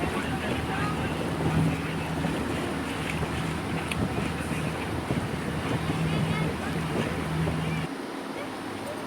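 A motor boat heading to Ross Island in the Andaman Islands runs with a continuous engine drone under wind buffeting and water rush, with a low hum throughout before easing slightly near the end.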